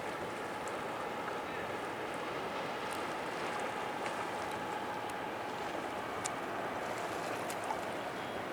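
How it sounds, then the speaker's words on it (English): Waves wash against a lakeshore in a steady, broadband rush of water with some wind noise. The sound is faint and continuous, with no distinct breaks. "Notice the water, the waves."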